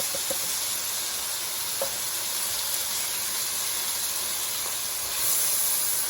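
Zucchini and canned corn sizzle steadily in a pan for a keto creamy cheese sauce dish, a constant close hiss with a few faint clinks, swelling louder near the end.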